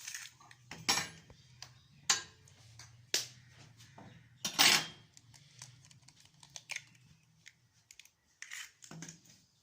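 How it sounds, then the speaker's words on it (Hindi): Eggs are beaten in a bowl, giving irregular bursts of clinking and clattering with short pauses between them, close and fairly quiet. "हम अंडे लेंगे और उसे अच्छे से फेंट लेंगे"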